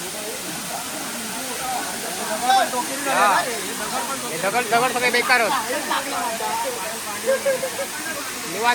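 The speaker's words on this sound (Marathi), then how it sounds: "तर आता इकडे सगळे आनंद घेतात धबधब्याचो." Nhavankond waterfall at Devgad in Konkan: a steady broadband rush of falling water runs throughout, with people talking and calling out over it at close range.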